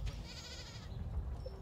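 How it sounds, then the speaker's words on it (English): Short goat bleat from a farm animal in a video game, a single wavering cry over a low rumbling game background. "Oh, that's a goat."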